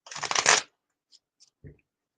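Tarot cards being shuffled by hand, heard as one close, crisp riffling burst about half a second long, followed by a few faint ticks and a soft tap in near-silence.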